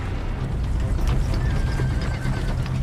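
A horse whinnies over a busy bed of clip-clopping hooves and rumbling outdoor movement, loud and close, with a drawn-out neigh rising in the middle.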